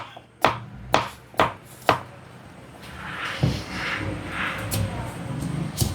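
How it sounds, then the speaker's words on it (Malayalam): A knife chops vegetables into larger pieces on a board at home, four sharp, evenly spaced close chops followed by softer, irregular cutting and scraping, with faint talk underneath. "ഇത്തിരി വലുതാക്കി അവിടെ നുറുക്കാം"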